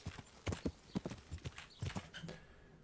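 Steady clip-clop of horse hooves in the video game Kingdom Come: Deliverance, a brisk uneven rhythm of hard knocks, close and fairly loud, with no talking.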